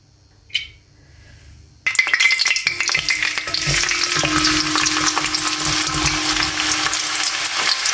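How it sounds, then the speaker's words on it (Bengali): After a near-silent start with one small click, a medium chopped onion hits hot oil and erupts into a loud, sustained sizzle with crackling bursts, frying steadily up close for a hilsa fish curry. "পেঁয়াজটাকে হালকা ব্রাউন কালার করে ভেজে নেব।"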